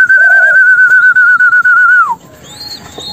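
Spotted dove chicks in a dim nest box beg for food with a long, steady, clear whistling note, loud and close, that drops away abruptly, followed by softer chirps and rustling.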